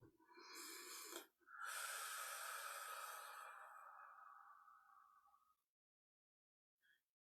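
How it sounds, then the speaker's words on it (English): A pet coughs and wheezes in a harsh, breathy fit of sharp snorting gasps lasting several seconds, close and fairly faint, then goes quiet with one brief rasp at the end. "I think he just had a coughing fit."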